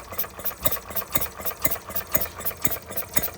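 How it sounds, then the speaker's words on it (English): Stirling Kits Retrol G16 stationary gas engine running with a regular, evenly spaced chuffing beat, about two firing thumps per second, heard close and moderately loud with no talk. "It even sounds like a proper stationary engine."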